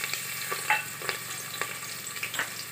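Onion frying in mustard oil in a home kitchen pan for a mixed vegetable tehri, a steady close sizzle with a few sharper crackles and stirring scrapes, no voices.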